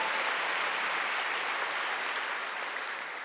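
A congregation at a Korean Wednesday church service gives a short burst of continuous applause, fairly faint and even, with no talk over it.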